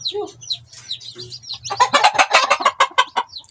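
Several chickens cluck nearby, with scattered high calls at first, then a dense burst of rapid clucking from the flock.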